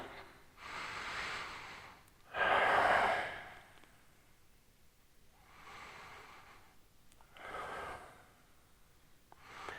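Slow, audible breaths during a hip stretch, close to the mic: about five long airy inhales and exhales, one noticeably louder and heavier than the rest, with quiet pauses between them.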